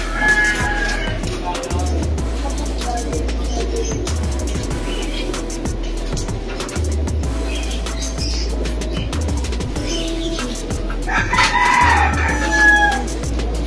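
Roosters crow and chickens cluck at close range over a steady low background hum, with calls overlapping throughout.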